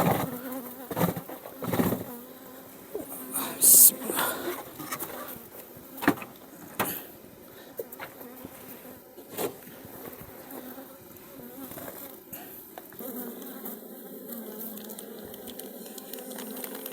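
Honeybees swarm and buzz loudly around a strong open hive during an inspection, a constant dense drone close to the microphone, broken by knocks and scrapes of frames and hive tools.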